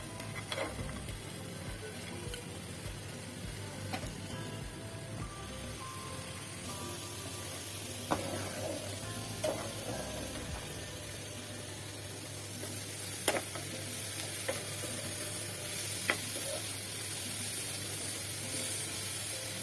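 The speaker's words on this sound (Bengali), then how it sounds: "রসুন কুচি দিয়ে দিলাম, একসঙ্গে ভেজে নেব।" Chopped garlic, onion and dried red chili frying together in a pan, a continuous close sizzle and hiss with occasional sharp crackles and stirring clicks, no voices.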